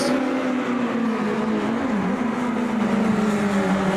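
On-board race car engine at Hockenheim in its 1988 layout: a loud, steady drone held at a near-constant pitch, dipping briefly once, running continuously with no talk.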